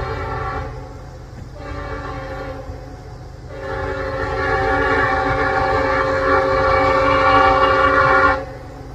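A Norfolk Southern freight train, NS21T from the North Kansas City District, led by a Penn Central heritage locomotive, sounds its horn in long blasts over a steady rumbling engine and rolling cars.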